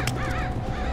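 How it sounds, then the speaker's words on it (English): Crows cawing in the stealth video game Mark of the Ninja, a few harsh overlapping caws over a steady low game background, close and fairly loud with no talk. "Oh, all these crows."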